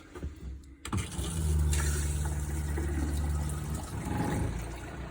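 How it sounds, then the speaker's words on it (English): A faucet is turned on, and water rushes out in a steady close stream, starting abruptly and continuing over a low, constant mechanical hum. "And turn on the faucet."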